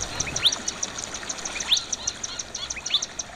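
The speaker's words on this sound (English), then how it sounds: "After a while of taking in the bird songs" Small birds sing at a desert creek in a canyon, repeating high, bright chirps and quick whistled notes at a moderate distance over a soft background hiss, with no voices.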